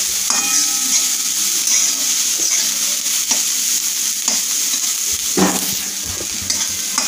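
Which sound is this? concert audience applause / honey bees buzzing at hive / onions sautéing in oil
onions sautéing in oil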